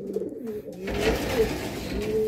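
Racing pigeons coo nearby in a soft, throaty rolling rhythm, several overlapping low calls repeating over a faint background with no speech.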